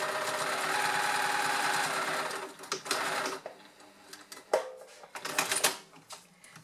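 A sewing machine runs a straight stitch along a knit seam, joining a double-trim neckline into a circle. A steady whirring run comes first, then short bursts of stitching with pauses between them, all close by and with no talk.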